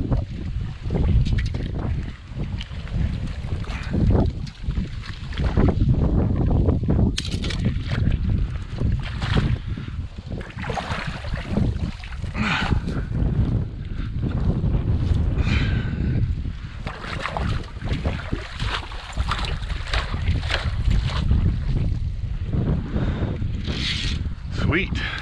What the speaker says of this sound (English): I just wish it wasn't so windy.